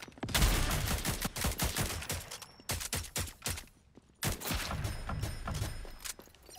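Rapid rifle fire in the Rogue Company shooter game during a match in Dubai: dense bursts of gunshots, loud and close, with a short pause mid-clip before firing resumes.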